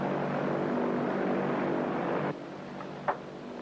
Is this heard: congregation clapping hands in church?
no